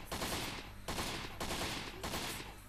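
Rapid gunfire bursts from the video game Postal 3, loud and continuous, broken into several dense volleys with brief gaps between them and no talk over it.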